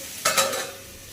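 Okra (bhindi) tossed and stir-fried in a pan in a simple home kitchen: a sudden burst of sizzle and scraping that swells briefly, then settles to a softer, fading hiss.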